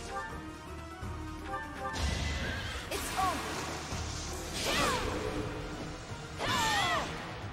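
A horse in the Fire Emblem Three Houses video game whinnies in several rising, quavering calls over clashing battle effects and whooshes, fairly faint in the mix.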